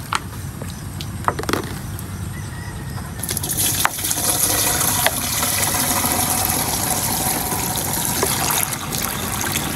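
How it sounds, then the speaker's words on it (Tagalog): Water pours into an 18-liter plastic sprayer tank, filling it with about 4 liters; a steady close trickle and splash rises after a few faint knocks and builds to a continuous rushing pour. "lalagyan po natin siya ng tubig na 4 na litro"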